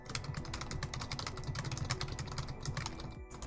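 Rapid, continuous clicking of keys on a computer keyboard during typing practice, close and fairly quiet, with an uneven rhythm.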